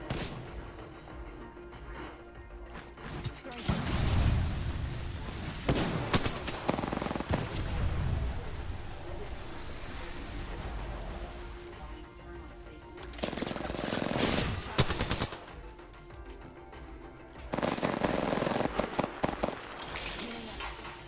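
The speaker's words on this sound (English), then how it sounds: "Getting shot at." Bursts of rapid automatic gunfire and heavy shots crackle in the video game Apex Legends, coming in loud clusters separated by quieter stretches of game ambience, with no speech.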